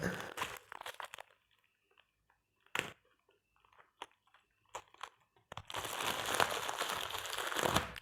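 Plastic packaging is crinkled and torn open to free a blue Bluetooth 5.0 dongle for a PC or laptop: a few scattered crackles and snaps, then a sustained close, rustling crunch near the end.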